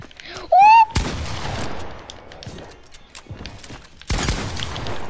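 Fortnite gunfire cracks out in two sharp bursts, one early and one near the end, loud and close, with a voice talking between them.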